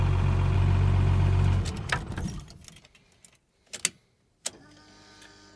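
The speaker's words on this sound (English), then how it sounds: "that's the best start I have had since I got this truck back together" A 12-valve truck engine idles with a deep, steady rumble, then cuts off, followed by a few sharp clunks and rattles in the quiet.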